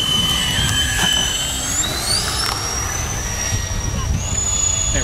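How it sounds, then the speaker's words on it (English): FMS A-10 Warthog V2 RC jet with twin ducted-fan engines spooling up from half to full throttle, a steady loud whine with rising tones over wind and outdoor noise. "I gave it a little bit of half throttle first and then throttle all the way up and pulled out of it"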